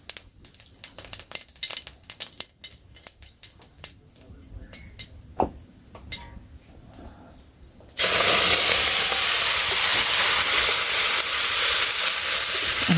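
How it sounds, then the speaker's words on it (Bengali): Cumin seeds tempering in hot oil in a kadai burst into a sudden loud, hissing sizzle partway through, after several seconds of quiet, scattered clicks and kitchen noises. "জিরে সম্বার দিয়ে দিলাম,"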